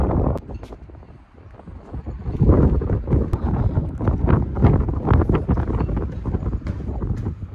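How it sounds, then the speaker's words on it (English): Gusty wind buffeting the microphone in uneven bursts, loud and close, with no talking. "and it's windy"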